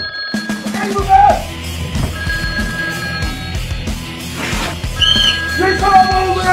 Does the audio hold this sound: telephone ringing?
yes